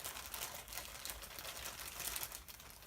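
A Japanese plastic bag printed with a horse is cut open, giving soft, continuous crinkling and rustling that stays quiet and close throughout.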